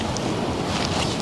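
Steady wind blowing across the microphone at a lakeside campsite at Lake Whitney State Park, a continuous broadband rush with no talk, loud and unbroken throughout.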